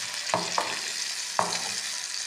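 Onions frying until brown in a pan for a chana dal dish, a steady broadband sizzle with three sharp stirring clacks of a spoon against the pan, close and continuous with no talking.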